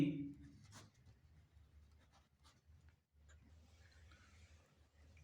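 A pen scratching across paper while working a geometry problem on triangle angles, a faint, close, intermittent scribbling with short strokes and pauses and no talk over it.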